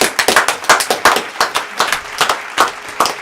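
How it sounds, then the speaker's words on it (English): Sparse, rhythmic claps ring out close and loud, a small handful of hands beating in an uneven pulse rather than a full crowd's roar. "can I have a round of applause for the envelope of truth?"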